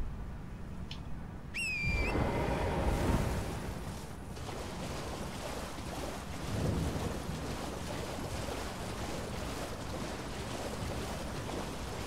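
A steady wash of falling water from a waterfall near Templetown Ruins in Elden Ring: Shadow of the Erdtree rushes on throughout, swelling slightly at times, with a few faint chimes and bright tones early on.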